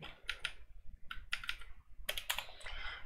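Typing a file name on a computer keyboard in backup software setup, a quick close burst of key clicks in three short clusters over a quiet room, with no voice.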